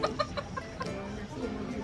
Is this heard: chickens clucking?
yes